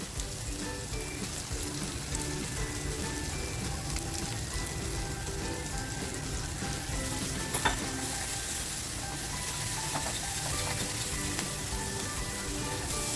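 Egg poured into a frying pan with fresh bombil, onion greens and chilli sizzles and crackles steadily and closely throughout, with small pops and stirring clicks, no talking.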